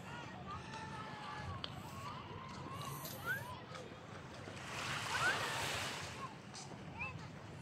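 Ocean waves wash against the shoreline at Mondragon, Northern Samar, near a seawall and a drainage canal outlet, a steady low surf with one swell building louder midway, while a person talks over it and wind buffets the microphone.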